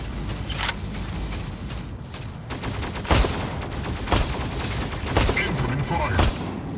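Gunfire in an arena battle video game: bursts of rapid shots and sharp booms recurring every second or so over a busy game soundscape, with an announcer voice calling out game events.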